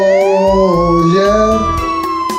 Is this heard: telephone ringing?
no